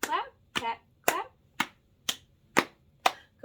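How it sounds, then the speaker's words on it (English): A preschool circle-time rhythm of patting legs and clapping hands, seven crisp evenly spaced hits about half a second apart, loud and close with no talk between them. "Can you pat your legs and clap your hands?"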